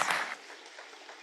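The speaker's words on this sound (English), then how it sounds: "Let's give them a big round of applause" A live pitch-competition audience at a ten-year celebration event claps in a short, fairly loud burst that fades quickly to a softer lingering patter.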